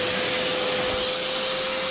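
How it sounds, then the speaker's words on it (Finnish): A handheld car vacuum cleaner runs steadily inside a car, a loud continuous motor whine with a constant tone that holds unchanged from start to end. "ja sitten laitetaan tuo imuri"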